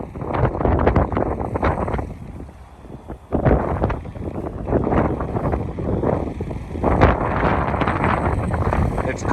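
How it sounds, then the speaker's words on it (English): Strong wind buffets a microphone outdoors on a cold February day in Oklahoma, with loud gusty rumbling that rises and falls throughout and briefly eases midway. "It's cold and windy out here."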